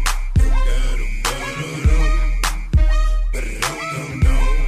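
A song plays on the Need for Speed Underground game menu, a loud hip-hop track with heavy booming bass hits repeating roughly every second under a bright synth line.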